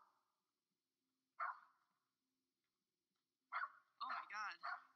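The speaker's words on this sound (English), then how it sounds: "The family dog, a little Jack Russell Terrier, seems to be particularly freaked out by the mysterious dark figure" A small Jack Russell Terrier barks in short, sharp bursts, a single yelp early on and then a quick cluster of yapping barks near the end, with people talking in between.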